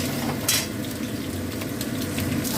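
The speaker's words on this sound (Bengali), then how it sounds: "এই দুটো আমি একসঙ্গে ভেজে নেবো।" Cubes of bottle gourd and pumpkin fry together in hot oil, a steady, close hiss of sizzling with a brief stir or clatter partway through.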